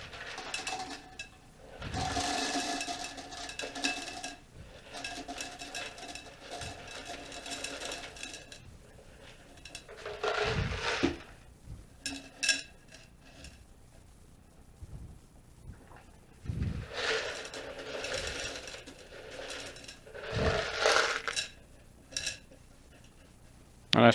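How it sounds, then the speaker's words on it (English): Pea gravel pours into an empty peanut butter can in several separate bursts of rattling, clattering stones. Quieter pauses fall between the pours, and the sound is fairly close and moderately loud. "add an additional layer, some pea gravel, in the same peanut butter can"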